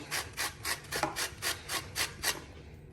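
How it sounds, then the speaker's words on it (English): Lemon zest grated for a Jamaican Easter bun, close soft raspy strokes in a steady rhythm of roughly eight passes that ends after the last stroke, with no voices. "So you're gonna put some lemon zest in it."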